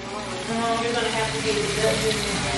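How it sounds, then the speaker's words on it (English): Steady crackling sizzle of seasoned chicken frying in a pan, close and continuous, with a faint hum underneath. "And I am just pan frying that."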